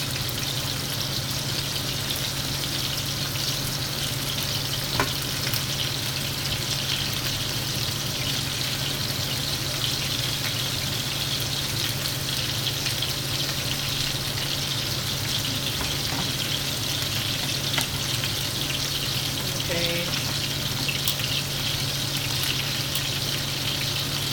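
Meatballs fry in a pan with a steady, close crackling sizzle, broken by a few faint clicks from tongs turning them, no talking.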